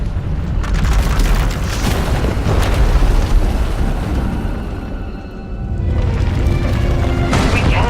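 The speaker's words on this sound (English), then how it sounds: "When it erupts, the entire asylum will be destroyed." A runaway power eruption blasts through an asylum in Star Wars: The Old Republic, a loud, sustained rumbling explosion with crackling bursts that dips briefly and then surges again.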